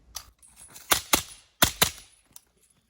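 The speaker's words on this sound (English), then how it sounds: "it may sound different on the video, but this is a really quiet gun" A suppressed Sig Virtus Tacops 300 Blackout rifle fires a quick string of muted shots at close range. The sharp cracks come singly and in pairs over a few seconds, with the last one fainter.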